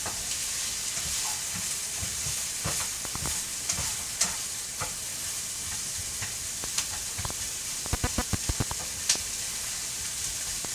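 Bacon and onions frying in a pan, a steady hiss of sizzling fat with occasional sharp pops and a run of clicks and scrapes as the food is stirred.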